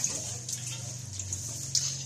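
Water poured into a spicy Andhra-style fish pulusu masala, a steady close splashing trickle with soft gurgling that runs continuously for a couple of seconds.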